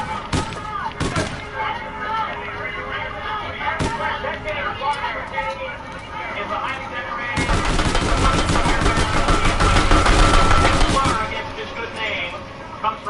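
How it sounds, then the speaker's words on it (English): Gunfire in a PS4 video game, with rapid automatic bursts that build into a dense, loud volley midway. Game dialogue and a streamer's voice continue underneath. "Who's out here shooting?"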